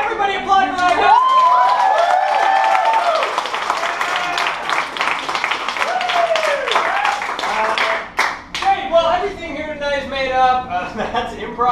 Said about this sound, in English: Everybody applaud for that guy.